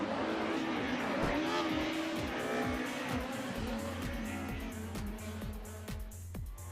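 Racing cars at Cadwell in Assetto Corsa, including a Volvo, a Primera and a BMW running close together, engines droning and rising in pitch with repeated gear changes, steady and loud throughout.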